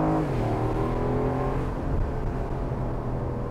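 An Aston Martin Vantage F1 Edition sports car engine revving, a loud close whirring roar whose pitch rises then eases and holds steady.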